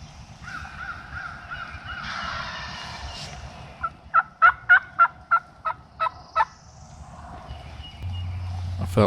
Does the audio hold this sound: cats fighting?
no